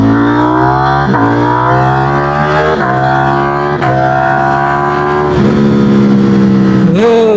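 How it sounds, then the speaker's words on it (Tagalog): A loud motorcycle engine revs up and down repeatedly, pitch climbing and dropping through several throttle bursts, close and steady throughout. "Pakinggan niyo yung motor."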